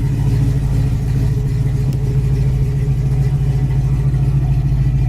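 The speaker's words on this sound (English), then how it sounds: "That new dual exhaust sounds great also." A 1973 Dodge Challenger's engine idles steadily through its new dual exhaust, a loud, close, deep rumble holding an even, throbbing pulse with no variation throughout.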